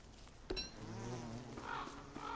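A bee buzzes steadily in a survival video game, a continuous insect drone that swells and shifts in pitch over a quiet ambient background, fairly close and alone with no talking.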